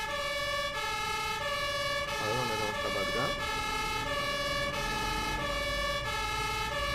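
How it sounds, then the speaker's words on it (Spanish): An ambulance siren wails in a steady repeating cycle at an accident scene, loud and continuous, with a brief vehicle rumble and a voice talking over it. "Mira, ahí está la ambulancia."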